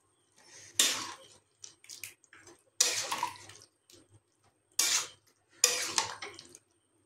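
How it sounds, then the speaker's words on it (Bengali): Chicken stew thickened with cornflour stirred with a spatula, four bursts of wet scraping and sloshing against the pot separated by near-silent pauses, with smaller knocks between them; no voices. "এটা ভালোভাবে খুন্তি দিয়ে আরও কিছুক্ষণ নাড়িয়ে নেব"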